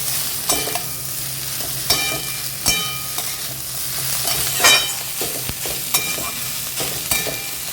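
Boiled banana flower goes into a pan of frying turmeric and chili powder for mochar ghonto. Soft sizzling runs under irregular stirring scrapes and clacks from a utensil against the pan.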